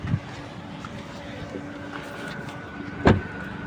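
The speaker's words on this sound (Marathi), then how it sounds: "आता तुम्हाला मी बाहेरून गाडी चालवून दाखवतो." A Zed Black Toyota Glanza hatchback drives past outside a gate, a low steady engine and road hum with wind noise and one brief louder knock near the end; no one talks over it.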